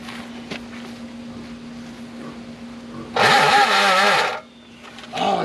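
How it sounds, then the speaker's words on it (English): The starter on a Toro riding lawn mower cranks in one loud, harsh burst of about a second, set against a low steady hum, then stops; a shorter burst of noise returns near the end. "Oh, I think that's the starter."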